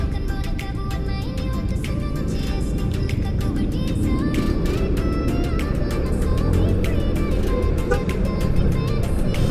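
Motorcycle riding through a traffic jam, a low engine rumble beneath a dense, steady mix of road traffic and wind noise, with short high clicks or beeps scattered throughout.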